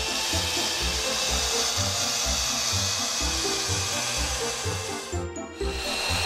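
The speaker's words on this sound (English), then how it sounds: "The handheld unit can also be used for inside cuts." A Gemini Taurus 3 handheld ring saw cuts glass with a steady, loud grinding whine and a pulsing low motor hum, broken by a short dip near the end.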